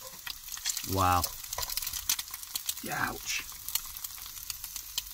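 Bacon sizzling in a hot pan during car camping in the Yorkshire Dales, a constant crackling hiss that carries on beneath two brief spoken exclamations.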